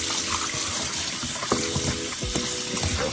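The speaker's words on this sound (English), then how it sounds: "Rinse it off with some cool water." Cool tap water runs over raw chicken in a sink, a steady soft splashing stream with faint sloshing as the pieces are moved around, quiet and close with no voices.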